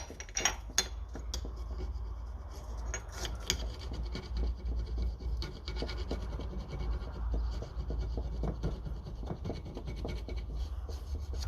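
An old gasket is scraped off a 1957 Ferguson TEF 20 diesel pump with a metal tool, with close irregular scratching and rubbing strokes, some sharp clicks, and soft, steady scraping throughout.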